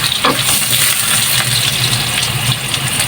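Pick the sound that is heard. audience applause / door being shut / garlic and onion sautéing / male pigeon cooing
garlic and onion sautéing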